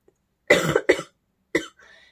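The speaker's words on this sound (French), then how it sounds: "fallait que je tousse" A woman coughs indoors, three sharp close bursts in quick succession, followed by a faint breathy trailing sound, with no talk.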